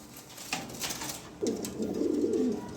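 Black Lahori pigeons, a pair with red beaks, coo in a low, rounded rolling phrase that swells up near and clear after a brief softer call, with faint chirps and background noise around them.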